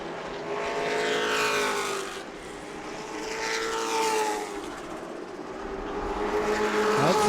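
Race cars roaring around New Smyrna Speedway in a short-track event, engines loud and close, with pitch sweeping up and down as several cars pass in waves, no talking.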